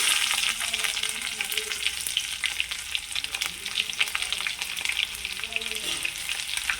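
Mustard seeds, cumin, dried red chillies and coarsely crushed garlic fry in hot oil with a steady, dense sizzle and scattered crackling pops, close and continuous throughout, with no voices.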